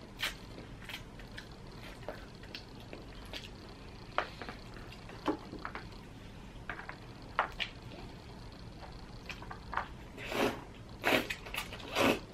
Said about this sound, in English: you're allowed to slurp in Japan